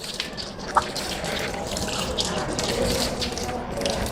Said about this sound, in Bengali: ডান হাতের কনুই পর্যন্ত 3 বার ধৌত করলাম